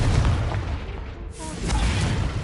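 A Confringo fire spell bursts in the Hogwarts Legacy video game, a loud, rumbling blast that briefly dips partway through before roaring on with no voices over it.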